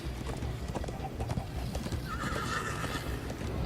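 A horse in the Minecraft Story Mode video game gallops with a quick clip-clop of hooves, then gives a loud neigh, all under a dense game soundtrack.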